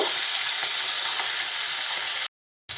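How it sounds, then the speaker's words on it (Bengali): Pieces of rohu fish fry in hot oil in a wok with a steady, dense sizzle that runs continuously before cutting to silence near the end. "মাছগুলো আমি ওই পাশটাও খুব সুন্দরভাবে ভেজে নিব।"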